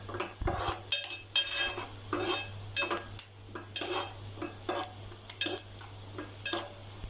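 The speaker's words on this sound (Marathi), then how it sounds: "काही कांदो वायच लाल जाय दिलो." Onions frying in a pan for a Malvani mackerel fish curry, a soft steady sizzle broken by regular scraping stirs of a spatula, close and moderately quiet over a low background hum.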